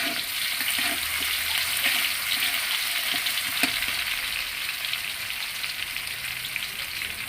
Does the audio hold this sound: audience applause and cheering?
no